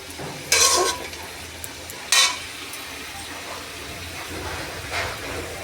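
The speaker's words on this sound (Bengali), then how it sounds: "চিকেন কষাটা একটু নাড়াবো" A spoon scrapes and stirs chicken kosha as it fries in a pan, with two sharp, loud stirring strokes over a faint, steady sizzle and a softer scrape near the end.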